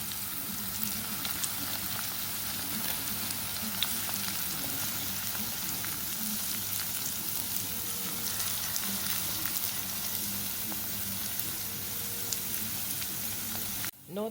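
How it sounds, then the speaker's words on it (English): Scallion and seasonings for ackee and saltfish sauté in a pan with a steady, even sizzle that holds at a constant level throughout and cuts off abruptly at the very end. "Now that our seasonings are fully sauteed"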